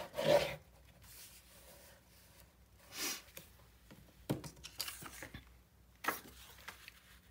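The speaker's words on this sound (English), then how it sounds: "I'm going to burnish this." A paper panel for a 9 x 9 Nutcracker mini album is burnished by hand, giving short dry rubbing strokes in a few separate bursts at close range.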